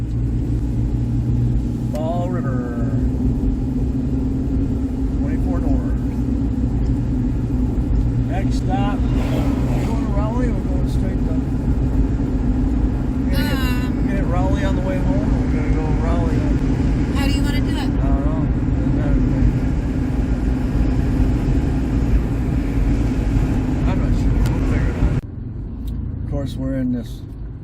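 Car cruising in bumper-to-bumper traffic on I-95 heading north from Fall River, a steady low engine and road rumble filling the cabin throughout while several people talk over it, ending with a sudden drop in level near the end.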